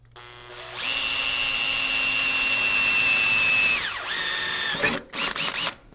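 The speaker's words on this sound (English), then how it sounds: "Give it another drill." A power drill bores a hole for a hood strut bracket on a third-generation Toyota Tacoma, spinning up into a loud, steady high whine for about three seconds, winding down, then revving briefly and pulsing in short bursts.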